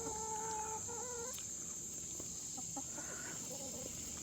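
Chickens cluck and call faintly in the distance, a few scattered notes over a steady outdoor hiss.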